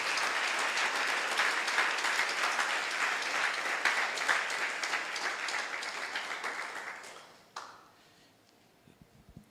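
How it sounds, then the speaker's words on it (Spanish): A church congregation claps in steady, enthusiastic applause for about seven seconds, then it quickly dies away into near silence. "Denle un aplauso al Señor"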